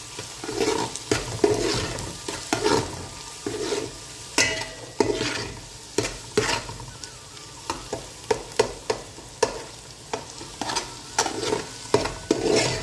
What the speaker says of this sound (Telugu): అల్లం వెల్లుల్లి పేస్ట్ పచ్చివాసన పోయే వరకు మంచిగా మనం ఆయిల్లో ఫ్రై చేసుకోవాలి